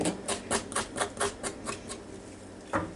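A knife cuts the ends off fresh carrots on a board: a quick, steady run of crisp, close taps, about eight in a row, then a short pause before one last chop.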